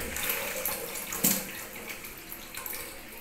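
Water is poured off grated potatoes, a soft splashing and trickling pour with one brief sharper splash partway through, close and fairly quiet.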